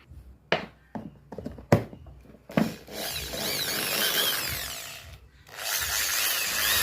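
New ISKU electric drill: several short sharp knocks first, then the motor whirs steadily for a few seconds, pauses briefly, and starts whirring again, close and fairly loud.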